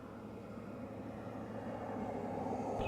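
Space Shuttle Discovery launching with engines at throttle up, a distant continuous roar that swells gradually louder, with a faint tonal hum beneath and no talking.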